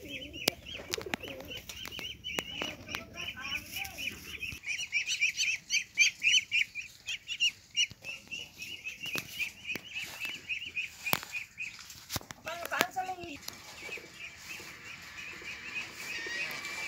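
Domestic pigeons kept alongside ducks give soft cooing calls and bursts of wing flapping nearby, with scattered clicks and rustles around them and no speech.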